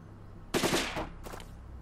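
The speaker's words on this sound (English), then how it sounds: "That sounded like a guy with a heavy machine gun." Heavy machine gun fire in Silent Storm: Sentinels, a short rapid burst of several shots followed by a second, fainter burst, fairly distant and alone.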